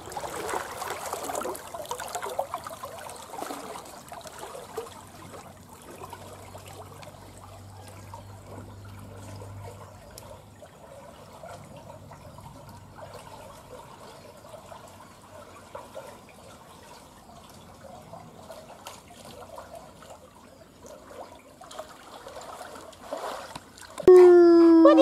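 Water swirls and trickles in an Intex above-ground pool, a faint steady sloshing with small drips and splashes over a long stretch, ending in a sudden louder burst of noise.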